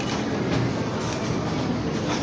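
A subway train rumbles through a New York station, a steady loud broadband roar with faint rhythmic wheel clatter, no voices.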